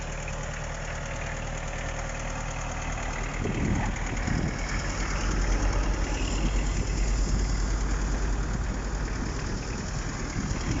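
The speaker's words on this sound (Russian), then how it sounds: "Очень хороший тракторок. Реверс скоростей, реверс фрезы, гидрорегулировки." A Mitsubishi MT306 Japanese tractor with a cab, 30 horsepower, runs with a steady knocking diesel rumble that grows slightly louder partway through, continuous and fairly close with no talking.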